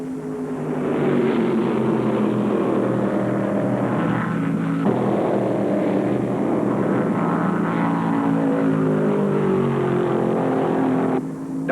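Stock race cars from a 1975 ARCA Late Model Sportsman 200 at Alabama International Motor Speedway, with a Dodge and a Ford among them, roar around the track in a loud, continuous engine drone that keeps shifting in pitch as they pass.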